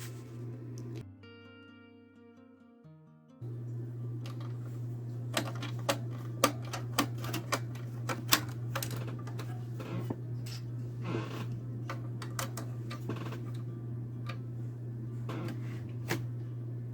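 Screws being worked out of a computer CPU fan and cowling: a steady low hum runs throughout under a series of sharp metallic clicks and ticks, close and fairly loud, with a brief tonal beeping near the start.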